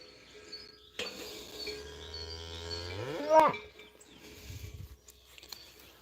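During a herd health check in a corral, a cow gives one long, low, drawn-out moo that rises and breaks at the end, with faint insect chirps and light clatter around it.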